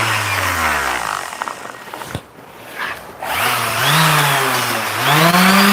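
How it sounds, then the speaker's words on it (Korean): A power sander works solid Douglas fir for a fishing rod holder, its loud motor whining steadily and shifting in pitch, briefly easing off midway before revving up again. "샌딩 작업을 해보도록 하겠습니다"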